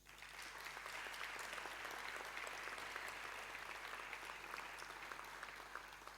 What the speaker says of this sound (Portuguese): O vosso aplauso mais uma vez